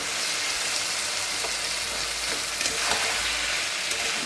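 Mutton goes into a pan of frying spice paste for a Bengali mutton kosha, giving a steady close-up sizzle and hiss with faint stirring and no talk.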